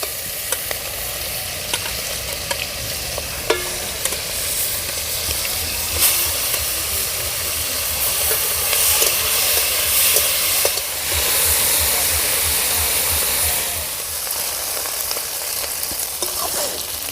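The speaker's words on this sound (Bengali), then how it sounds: "কলার মোচার ঘন্ট করার জন্যে মাছগুলো একটু লাল লাল করে ভেজে নেব" Prawns fry in hot oil in a pan for banana flower ghonto, giving a steady, loud sizzle with crackling spatters and occasional stirring scrapes throughout.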